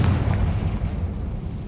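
A Confringo fire curse explodes in Hogwarts Legacy with a loud, sustained booming rumble heavy in the low end, rolling on for nearly two seconds without a break.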